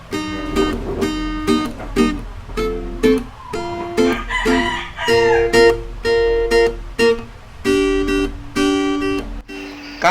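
Roosters crow loudly and repeatedly nearby, their calls overlapping with clucking chickens, with no talking.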